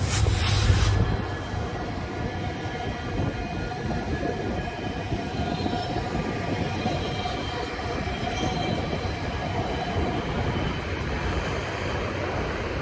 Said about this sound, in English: So that's the Metrolink coming up from Oceanside.